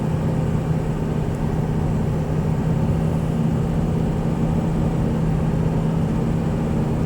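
A 2005 Ford Excursion Limited with a 6.0L Powerstroke diesel, 4WD, runs in 5th gear while driving, a steady low engine drone and road rumble heard from inside the cabin.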